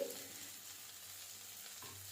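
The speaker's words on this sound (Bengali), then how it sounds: "আবার মশলাটা একটু ভেজে নেব" Spices frying in a pan together with grated beetroot, a steady soft sizzle with light stirring that stays quiet and even throughout, no voices.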